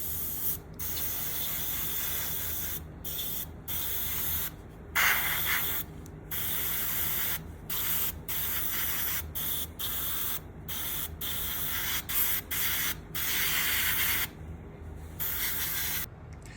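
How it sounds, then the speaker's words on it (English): An airbrush sprays AK olive green paint onto a model base, a steady close hiss broken by frequent short pauses as the trigger is released and pressed again. "we're going to go in with the AK olive green, the lightest of the 3 greens, with the airbrush"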